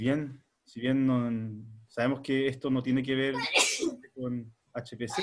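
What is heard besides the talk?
sneeze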